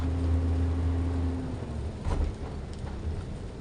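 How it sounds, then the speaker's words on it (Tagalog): Heavy tropical-storm rain drumming on a vehicle driving over Cordoba Bridge in the Philippines, a steady loud wash with a low engine hum underneath and a brief passing swell, no talking. "Napakalakas pa rin ang ulan, hindi pa rin humihinto."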